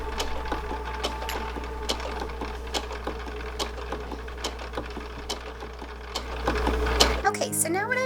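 Sewing machine stitching a tunic dress, a steady low motor hum with rapid clicking stitches running for about seven seconds before stopping, while people talk quietly over it.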